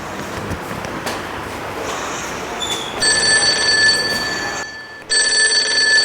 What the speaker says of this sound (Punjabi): ਇਹ ਕਿਦਾ ਫੋਨ ਆਉਂਦਾ ਵੀ